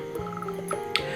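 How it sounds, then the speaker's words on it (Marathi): A frog croaks in a short run of rapid pulses followed by a couple of single croaks, fairly close, over a steady background hum. "बेडूक डराव डराव ओरडतो."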